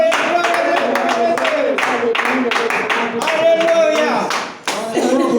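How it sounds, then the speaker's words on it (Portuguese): A church congregation claps steadily in a close, even rhythm during a worship service, with a strong voice speaking or singing over the sustained clapping. "Então dá uma salva de palmas"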